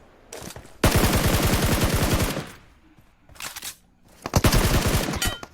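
UMP submachine gun fire in PUBG Mobile crackles out in rapid automatic bursts: a long sustained volley, a pause, a short burst, then another rapid string, loud and close with no talk.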